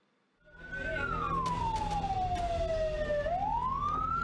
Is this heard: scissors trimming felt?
no